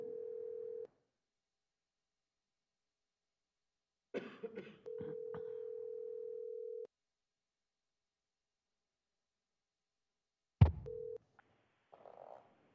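A phone line tone hums steadily at a board meeting, first briefly, then again for a few seconds after a cough and throat clearing, followed by a sharp click, a short beep and faint noise.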